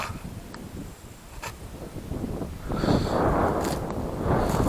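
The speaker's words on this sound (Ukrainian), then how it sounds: "І вітер дує так, що ті хмари жне на мене." Gusty wind buffets the microphone in an open field before a thunderstorm, rising into a stronger roaring blast in the second half.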